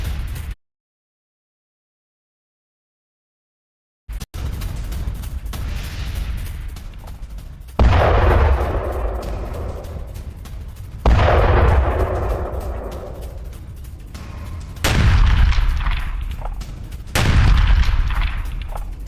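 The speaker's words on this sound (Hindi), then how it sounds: "खार्किव में रूसी सेना का बड़ा हमला। रूस की आर्टिलरी ब्रिगेड ने धावा बोला।" Russian artillery fires in the Kharkiv war zone, four heavy booms spaced a few seconds apart, each rolling off into a long decaying rumble, loud and outdoors after a brief silent gap at the start.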